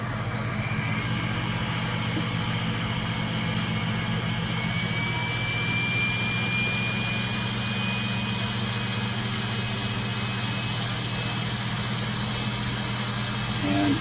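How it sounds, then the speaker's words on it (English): A CNC router spindle engraving a guitar body template whines steadily and loudly throughout, a continuous high-pitched mechanical drone with a constant low hum beneath. "We turn on the spindle."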